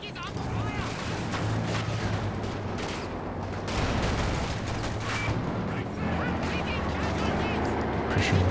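Machine gun fire and explosions in Company of Heroes 2 battle, rattling bursts and heavy booms layered over a constant rumble of combat, with a commentator talking throughout.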